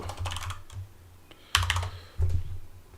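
Typing on a computer keyboard: close, quick bursts of clicking keystrokes with short pauses between them, in a quiet room.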